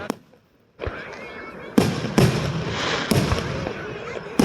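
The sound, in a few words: 4th of July fireworks exploding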